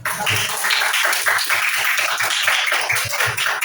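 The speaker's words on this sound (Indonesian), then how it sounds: "tepuk tangan, yuk" Primary school pupils in a classroom break into dense, continuous clapping, many hands overlapping into a steady patter that stays fairly loud and close throughout, with no speech.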